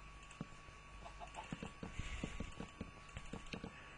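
A chicken in the video game Minecraft clucks faintly in a loose run of short, soft clucks, with light patter and game ambience underneath.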